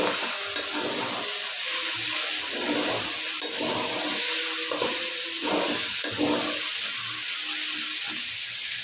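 Beans, potato and gourd-leaf greens fry in a pan, giving a steady hiss of sizzling oil while they are stirred and scraped in repeated rhythmic strokes.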